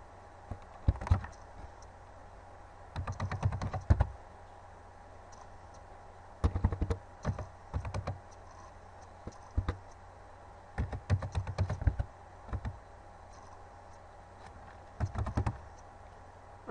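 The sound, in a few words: typing on a computer keyboard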